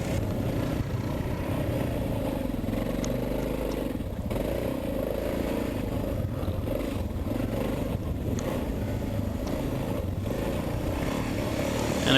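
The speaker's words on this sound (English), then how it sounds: "Joe finally gets rolling on the HP2." A BMW HP2 Enduro motorcycle rides off-road on dirt, its engine a steady low drone mixed with heavy wind buffeting across the microphone, held at a constant level the whole time.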